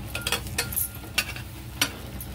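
Veg toast sandwich flipped on a hot griddle, a steady soft sizzle with a few sharp scraping clicks of the turner, close and moderately quiet with no talking.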